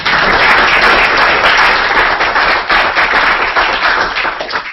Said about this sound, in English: Could we have a round of applause for Alan?